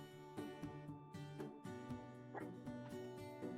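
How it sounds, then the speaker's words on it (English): A chihuahua barks and yips in short, sharp bursts, several spaced barks over a steady background hum, fairly close and moderately loud. "This is the first time you're hearing her bark on stream."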